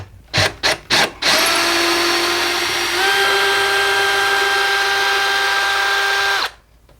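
A power drill backs out the last mounting screw of a kitchen cabinet: a few short trigger bursts, then a long steady whine that shifts pitch midway and stops abruptly.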